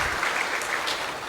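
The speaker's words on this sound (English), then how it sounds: "Let's give Prabhu a round of applause one more time." Audience at a Sunday love feast applauding a speaker after his class, a brief, loud, dense burst of clapping heard alone.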